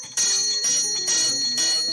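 A bell at the entrance of a small-town history museum rings clearly, struck several times in a row with bright, sustained metallic tones that overlap and carry between strikes.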